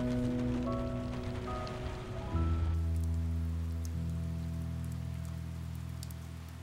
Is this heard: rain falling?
yes